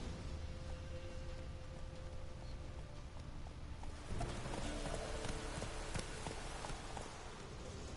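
Hooves of Roach, a horse in a video game, clip-clop steadily at a walking pace over a faint, hissing ambient bed, moderately quiet, with no voices.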